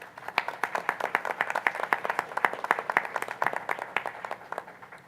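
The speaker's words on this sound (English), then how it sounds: "let's give them another round of applause" A small audience at a school board meeting claps for musicians, distinct individual hand claps forming a fairly loud, rhythmic round of applause that holds steady throughout.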